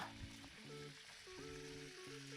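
Small pieces of veal drop into a hot pan and fry with a bright, continuous sizzle, with low clunks as the meat lands and settles, the frying staying loud and close.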